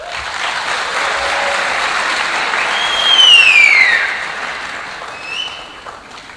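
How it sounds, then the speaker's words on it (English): Ceremony audience applauding a board chairperson, a dense, steady wash of many hands clapping that swells briefly midway and then fades, with faint whistles above it. "Another round of applause for the board chairperson of NICOM, Ms. Patience Lilongwe Kembo."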